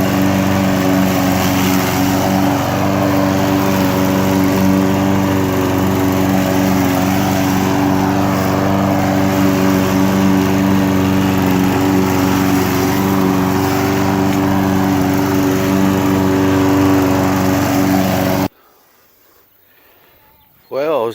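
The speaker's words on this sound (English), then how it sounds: "I was doing a little mowing around the trampoline" Lawn mower droning steadily and loudly while mowing around a backyard trampoline on a farm, its engine hum constant for about eighteen seconds before cutting off abruptly to near silence.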